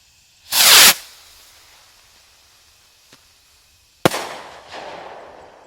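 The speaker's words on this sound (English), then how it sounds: "Ghost Star! Unique rocket, in my opinion." A Ghost Star firework rocket launches with a loud whooshing burst, followed by a faint pop and then a sharp crackling explosion that trails off, heard outdoors without talk.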